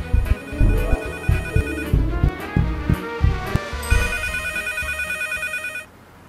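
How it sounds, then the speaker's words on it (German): An old stone-age style mobile phone rings in the Leisure Suit Larry video game, a loud repeating electronic ringtone pattern that plays alone for about six seconds before cutting off. "da bimmelt ein Handy, ein Steinzeit-Handy sozusagen"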